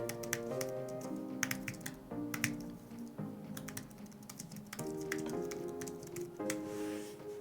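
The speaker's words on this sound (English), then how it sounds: "And just to type on," Keys clatter on a thin space grey Apple Magic Keyboard, a steady run of light, quick clicks and taps close up, with faint music-like tones underneath and no talking.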